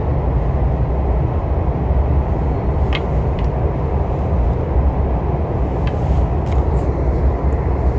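Inside a moving train in Korea, a heavy, steady low rumble of wheels and carriage fills the space continuously, with a few faint light clicks and creaks over the drone and no talking.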